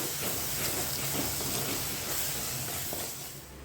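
Prawn thokku masala sautés in a pan as a dense, continuous hissing sizzle holds steady and close, easing slightly toward the end.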